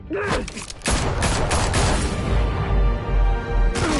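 Rapid bursts of gunfire ring out in a Batman Telltale game, with sharp opening shots followed by a dense, continuous volley under booming low rumble.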